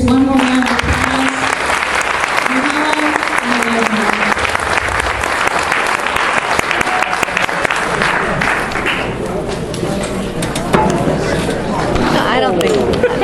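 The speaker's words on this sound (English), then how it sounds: "Let's give our speakers one more round of applause" An audience at a talk-story evening about the early days of Waikoloa breaks into a dense, sustained round of applause for the speakers. A voice speaks near the start, and chatter and movement rise through the clapping toward the end.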